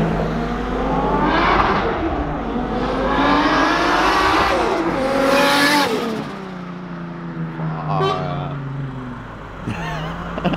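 A Nissan S15 with a 400+ horsepower RB25 engine and screamer pipe drives past, its loud revving engine rising and falling in pitch as it accelerates close by, with tire noise and a shout or two from onlookers.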